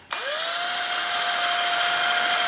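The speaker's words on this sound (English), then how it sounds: "I don't know if I could have picked a duller drill bit." Power drill with a dull bit boring out the headlight opening of a 1/14 Tamiya Grand Hauler model truck; the motor whirs up sharply and holds a steady high whine, loud and close, with no talk.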